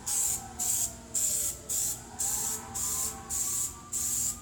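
Aerosol can of Plasti Dip sprayed in a light first coat onto car emblems on an S500: nine short, even hissing bursts in a steady rhythm, close and fairly loud, separated by brief pauses.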